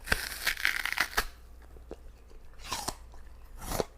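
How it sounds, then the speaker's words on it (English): A crisp apple is bitten and chewed up close, with sharp loud crunches at the start followed by repeated wet, crackling chews that fade and rise in bursts, with no talking. "the crunch of this apple is insane"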